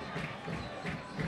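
Football crowd at a Campeonato Maranhense match between Chapadinha and Pinheiro, a dense, distant roar of fans clapping and chanting together, holding steady at a moderate level throughout.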